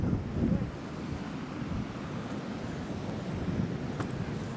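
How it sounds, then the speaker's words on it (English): Ocean surf breaks along the shore of the Pacific Northwest coast, a steady roaring wash with heavy wind buffeting the microphone throughout. "watch out for breaking waves"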